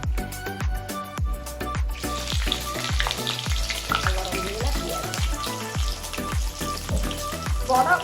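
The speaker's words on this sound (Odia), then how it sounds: "ଆଉ ହଉ ଏବେ ପକେଇବା ପିଆଜ" Onion frying in hot oil for mushroom pulao, a loud close crackling sizzle that runs without a break, with a rapid series of sharp metallic taps and clinks from a spoon against the pan throughout.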